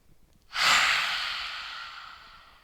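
A single slow, audible breath taken in through the nose and released out through the mouth during a mindful yoga session, drawn-out and close, with soft breathy airflow fading gradually and no talking over it.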